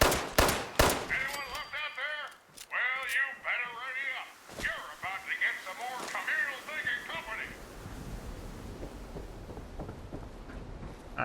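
Pistol fire in Fallout 76, a rapid cluster of sharp cracks at the start followed by scattered single shots, mixed with in-game voices and someone talking over the action.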